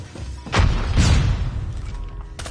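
A flashbang grenade detonating in Call of Duty Mobile, two heavy booming thumps about half a second apart, followed by a lingering ringing rumble that trails off.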